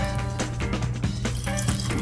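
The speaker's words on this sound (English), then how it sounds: "We're going to start with some pineapple juice and cranberry juice." Pineapple juice and cranberry juice splash into a glass for a bourbon cocktail: a short, close liquid pour with a gurgling, bubbly texture over a steady background hum.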